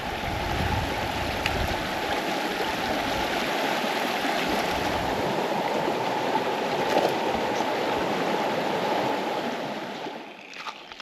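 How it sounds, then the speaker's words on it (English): Spring water pours steadily out of the ground at an off-grid homestead, a continuous, close rushing gurgle that holds evenly and eases off near the end, with no talking. "The water coming out of this ground"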